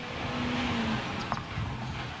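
A truck passing nearby outdoors, a steady broad engine and road rumble holding throughout, with a faint brief tonal whine partway through and no talk.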